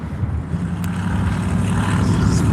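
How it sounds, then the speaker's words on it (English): A small car drives past on a road, its engine and tire rumble a steady, fairly loud low drone that swells slightly as it nears, heard without talk. "Got a car back behind me."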